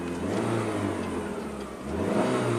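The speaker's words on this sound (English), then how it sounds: "raise the RPMs up a little bit and see if anything happens" A PT Cruiser engine, being checked for low power and no boost, revs up steadily from a near steady hum, its mid-pitched drone rising and swelling toward the end with no talk over it.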